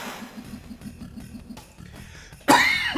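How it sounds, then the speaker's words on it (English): A single loud, close cough bursts out near the end, following a stretch of quiet low background hum during a relaxed gaming stream. "Because I keep coughing"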